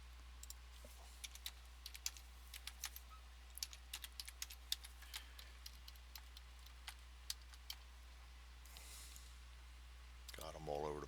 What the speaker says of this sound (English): I'm all over the place typing